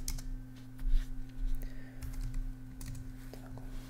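Rapid keystrokes of code being typed on a computer keyboard, close and crisp, in an uneven clicking rhythm over a steady low electrical hum.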